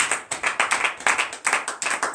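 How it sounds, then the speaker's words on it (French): A church congregation at a Beninese morning prayer claps in a steady, even rhythm of acclamation, a run of close, moderately loud hand claps with no talk over them. "Donne l'acclamation à Jésus."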